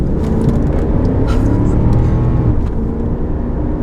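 A 1991 Audi V8 4.2 quattro pulls hard under acceleration, its engine note a loud, dense, steady roar heard from inside the car, with faint clicks and rattles on top.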